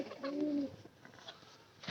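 Pigeons coo softly nearby, with one clear rolling coo at the start followed by quieter murmurs and a brief thump near the end, over a low background hum.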